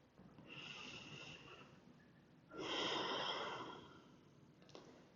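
A slow, audible yoga breath, a long soft inhale followed by a fuller, louder exhale through the nose, up close and unhurried, then a brief trailing breath.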